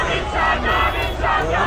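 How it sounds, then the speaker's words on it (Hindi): A crowd of protesters in Iran chanting slogans, a loud massed roar of voices swelling in rhythmic surges, close and dense. "नारेबाजी के साथ ये भीड़ लगातार आगे बढ़ रही है"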